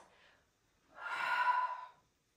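A single audible breath during a hip circle workout, a soft faint exhale followed by a longer, louder breathy inhale-exhale lasting about a second, with no talk.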